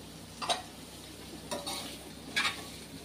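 Diced onion and chopped capsicum stirred in a pan for white sauce pasta, with three distinct scraping, sizzling stirs spaced about a second apart, fairly soft and close, no talking.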